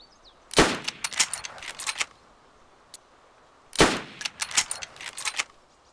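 Two separate gunshots in the survival video game DayZ, each a sharp, loud crack followed by a short trailing echo and rattle, about three seconds apart with quiet in between.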